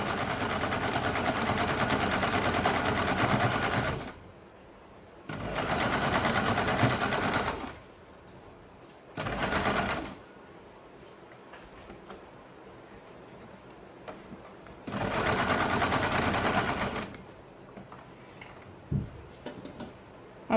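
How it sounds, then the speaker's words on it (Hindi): Sewing machine running a double line of stitching on a katori blouse, heard close in four whirring bursts of varying length separated by quiet pauses with faint handling noises. "और यहाँ पे आपको डबल सिलाई लगानी है।"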